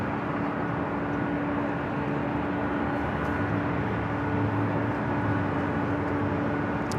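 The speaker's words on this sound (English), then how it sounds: "KLM making its way up here for north side takeoff" A KLM airliner taxis for takeoff at LAX, heard as a steady, distant jet engine drone with a low rumble and a faint constant whine, with no voices.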